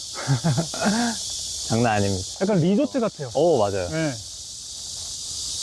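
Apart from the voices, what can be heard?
cicadas chirping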